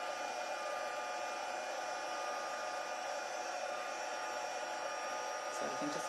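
An embossing heat tool blows hot air to melt embossing powder, a steady, hair-dryer-like whooshing hiss that holds at a constant, moderate level throughout.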